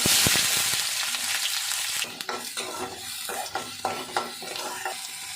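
Mustard seeds, cumin and onion frying in hot oil, a loud bright sizzle at first that settles as repeated spatula scrapes and taps stir the pan up close.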